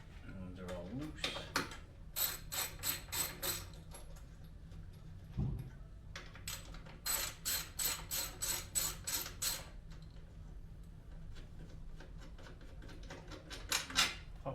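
Quick bursts of ratchet clicking from a hand tool loosening the shock bolts on a 2010 Harley-Davidson during a remote reservoir shock install, several close, crisp rattling runs in short rhythmic groups separated by pauses, with occasional speech.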